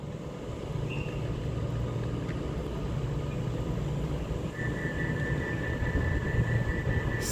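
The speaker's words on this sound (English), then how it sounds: "this is now arriving in now with the 1555 cross-country service to Bristol Temple Meads from Manchester Piccadilly with a double Voyager" A double Class 220 Voyager cross-country train arriving at Stafford on the West Coast Main Line, a steady low diesel rumble with a faint high whine building in the second half, heard alone without talk.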